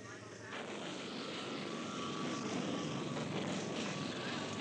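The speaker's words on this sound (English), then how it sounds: "huge B-52s flew up to 300 sorties a day against suspected communist positions" A huge B-52 bomber in flight, a loud continuous roar of engines that swells slightly and holds steady throughout, with no other sounds breaking through.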